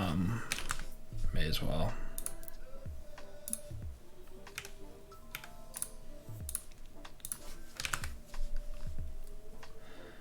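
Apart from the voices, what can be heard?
typing on a computer keyboard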